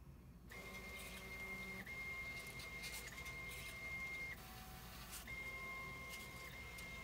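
A 3D printer runs a 300 mm/s speed test, its stepper motors whining in steady tones that shift pitch with the moves, plus quick clicks and rattles, close and continuous with no talking.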